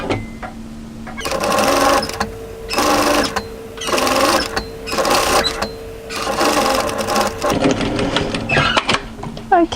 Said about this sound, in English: I'm just going to run a second line of stitching parallel to the first on the fold side at foot width